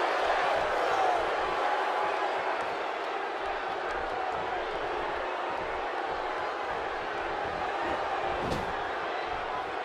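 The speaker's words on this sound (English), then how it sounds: "The crowd is buzzing." Arena crowd in the wrestling game WWE 2K17 keeps up a steady, dense roar throughout, a continuous wash of many voices with a brief sharp impact near the end.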